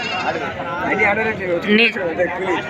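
A lamb bleats with a wavering, nasal cry while people talk nearby at the Devarakadra sheep market.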